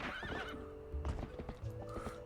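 A horse in the video game Zelda: Twilight Princess neighs and whinnies over the clip-clop of its hooves, with a steady game soundscape underneath.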